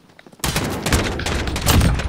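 Pistol shots in Modern Warfare during a pistols-only three-way match, a rapid string of loud, sharp reports that erupts suddenly after a quiet start and keeps going without pause.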